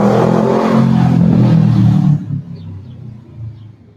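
A car rumbles past on a downtown street, loud and close for about two seconds, then fades out quickly and leaves quieter street ambience behind.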